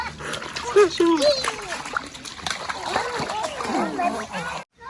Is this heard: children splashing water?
yes